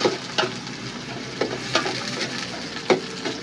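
Chopped onions sizzle steadily in a hot pan, with a few louder scraping stirs breaking through the constant frying hiss; close and alone, no talking.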